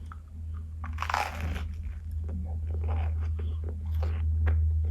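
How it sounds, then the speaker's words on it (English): A crunchy sweet snack is bitten and chewed close up while someone sits on the floor, giving several loud crisp crunches against a steady low hum. "First bite."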